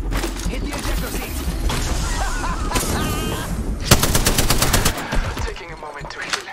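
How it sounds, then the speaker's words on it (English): Enemy gunfire in Apex Legends comes in loud, rapid automatic bursts with dense crackling shots up close, growing sharper midway, along with game effects and some character voice lines. "The enemies are shooting at me."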